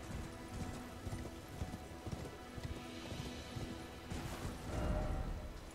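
Horses gallop in the Elden Ring video game with a steady, fairly loud clip-clop of hooves. A brief whinny comes near the end, alongside game ambience.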